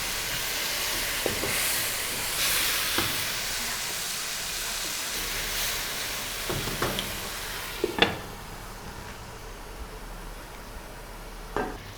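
Minced chicken and tomato paste cook in a karahi with a steady, loud sizzling hiss, broken by a few sharp clinks from a utensil against the pan.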